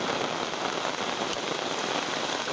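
Heavy rain pouring down steadily, a dense, even hiss of drops on surfaces that stays loud throughout, with no voices.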